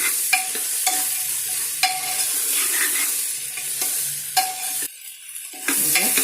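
Avarekalu, field beans, sizzle in hot oil while a spoon stirs them in the pan, a steady crackling hiss broken by repeated scraping strokes, close up with no voices.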